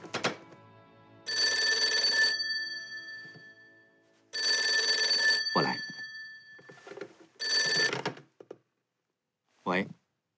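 An office telephone rings in loud repeated bursts, each ring lasting about a second with pauses between, followed by a couple of brief thunks as the receiver is handled, with no talking.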